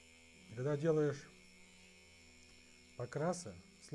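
A Vosmerka tattoo machine by AbuSev runs with a needle fitted, giving a steady electric buzz with a hum throughout. Two brief bursts of muffled voice rise over it.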